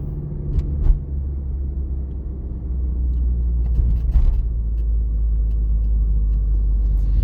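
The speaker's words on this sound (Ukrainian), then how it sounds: "Зараз я їду на другій передачі" A car in second gear during a driving exam gives a steady, close, low engine rumble with road noise, holding evenly from start to finish.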